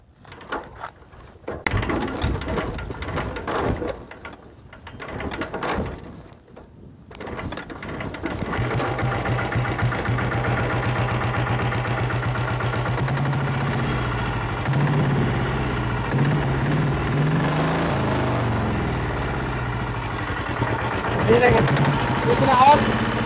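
An old diesel Royal Enfield Bullet motorcycle, started after a few clunks, settles into a steady loud rhythmic diesel thump at idle; someone speaks over the running engine.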